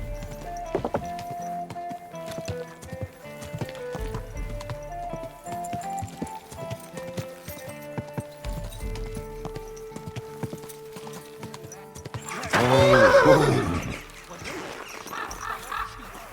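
Horse hooves clop in a steady walking rhythm under game music in Kingdom Come: Deliverance 2, then a loud, harsh horse whinny bursts out briefly near the end.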